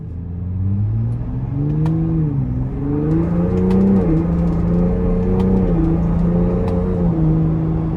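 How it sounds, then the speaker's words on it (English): A 2025 Ford Bronco Raptor with a twin-turbo engine pulls away from a stop in sport mode, its engine note climbing through several gear changes, heard steadily from inside the cabin. "it comes out of a stop very nicely without even having to floor it"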